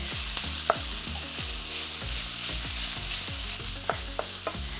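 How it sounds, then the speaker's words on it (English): Onions fry in oil with cumin seeds for a Punjabi tadka, a steady sizzle broken by rhythmic scrapes and knocks as a utensil stirs the pan. "So the onions have a high water content"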